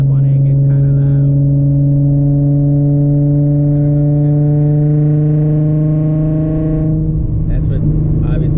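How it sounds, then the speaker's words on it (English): A Nissan 370Z fitted with Motordyne Art Pipes and a Tomei exhaust cruises in sixth gear, a steady loud droning engine hum with strong even tones that drop away near the end. "But this is basically cruising in 6th gear. So this is how it sounds."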